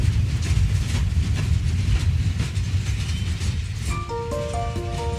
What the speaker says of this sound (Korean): 다시 출발하기 위해 기관차와 열차가 합체한다.